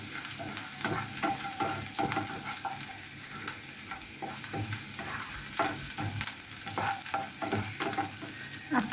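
Onion frying in a pan until brown, with whole cumin seeds added, a steady sizzle broken by scraping stirs and small pops in a home kitchen, close and moderately loud with no talking.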